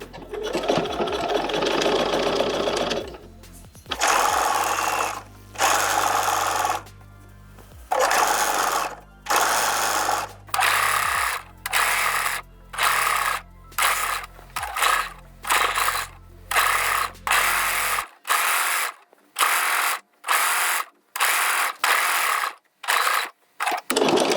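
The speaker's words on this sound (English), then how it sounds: "to top stitch the elastic as well with the cover stitch" A domestic cover stitch machine top stitches elastic onto a bodysuit, running in repeated short bursts separated by brief pauses, close and alone.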